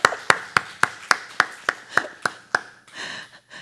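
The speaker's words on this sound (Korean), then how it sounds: "박수!" A congregation at a Sunday service at a Korean fasting prayer house claps in unison, about ten sharp, evenly spaced claps at a steady beat, close and clear, then fading into murmuring.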